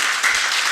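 A lecture audience claps for a talk given by a Seoul High Court senior judge, a brief dense patter of applause lasting under a second with no voices.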